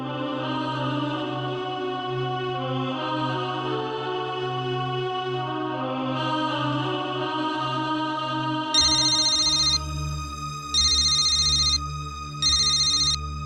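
A phone's electronic ringtone plays a repeating melody, then switches to sharp, loud ring bursts in regular pulses.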